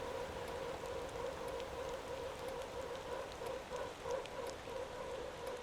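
Steady rain in a driving video game pattering continuously on a surface, a soft, even hiss with scattered drop ticks, fairly faint and uninterrupted.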